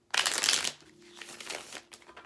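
A single quick riffle of tarot cards, a dense papery burst followed by softer shuffling and light handling, close by with no talking.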